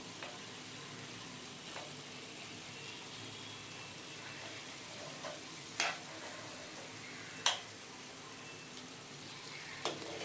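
Potato and pumpkin curry with spices, sugar and ghee being stirred in a pan: a low continuous sizzle with occasional sharp scrapes and knocks of the spoon against the pan, fairly quiet, no talking.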